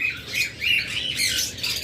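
A pair of lutino red-eye Fischer's lovebirds squawk and chirp close by in a quick run of shrill, overlapping calls.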